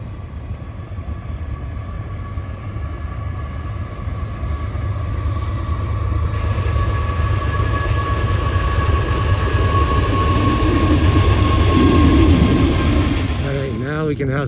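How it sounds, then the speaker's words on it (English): Train passing by on rails near Nebraskaland Days, a loud continuous rumble of wheels and cars with a steady tonal hum, building slightly in intensity before a brief squealing sweep at the end. "first train of the day"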